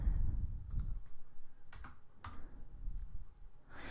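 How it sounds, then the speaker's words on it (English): Computer keyboard typing, a few scattered keystroke clicks over a low background rumble, fairly faint and close, with no talk. "Begin typing the series and make a selection from the display."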